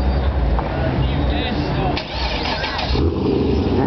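A Vauxhall VXR8 engine turning over and settling into a deep idle on an exhibition stand, loud and close with a steady low rumble, while a voice talks over it.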